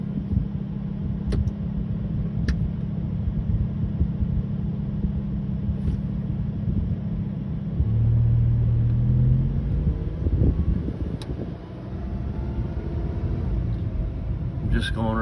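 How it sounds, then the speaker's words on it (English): Lamborghini Huracan STO pulling away and driving slowly around a circular driveway, a low engine rumble that swells briefly as it moves off, heard under an ongoing spoken voice. "At this point, we take the parking brake off and start driving."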